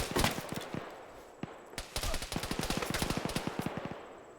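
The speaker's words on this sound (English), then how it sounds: "We're getting shot at." Gunfire in the video game Arma 3 sounds as scattered single shots followed by a rapid automatic burst of evenly spaced cracks, moderately loud, with no talking over it.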